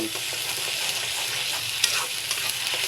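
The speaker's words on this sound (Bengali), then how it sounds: "দেখুন আমার পেঁয়াজ আর রসুন ভাজা হয়ে গিয়েছে" Onion and garlic sizzle and fry in a pan, a steady crackling hiss with occasional scraping stirs.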